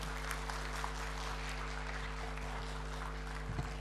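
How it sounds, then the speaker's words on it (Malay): An audience at a lecture hall talk giving a speaker a steady round of clapping, faint and distant under a constant electrical hum, evenly sustained throughout. "marilah kita sama-sama memberi tepukan yang gemuruh kepada Yang Berbahagia Datuk"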